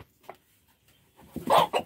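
A rooster caught after chasing hens on a farm, clucking in a short burst of a few loud, close calls after a quiet pause, with a faint earlier cluck.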